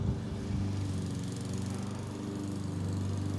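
A lawn mower cutting grass nearby runs with a steady, unbroken engine drone at moderate volume, holding even throughout with no voices.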